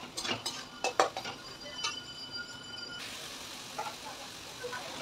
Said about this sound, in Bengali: এবার মশলাটাকে ভালো করে কষিয়ে, এই যে টমেটোমো দিয়ে দিলাম